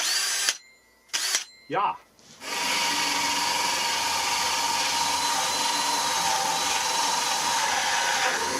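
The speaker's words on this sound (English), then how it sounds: "So fortunately I've got this hole saw rig, and let's get that going." A hole saw rig bites through a kitchen counter in a DIY off-grid build, a loud, steady grinding drone running unbroken for several seconds after a few brief spoken words.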